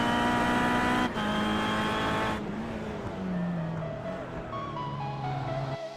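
An onboard view of a touring car in an iRacing Kia Touring Car Championship race at Bathurst heading into the final corner. A loud, high engine whine rises and falls through gear changes, with brief tyre scrubbing and a sharp cut at the end.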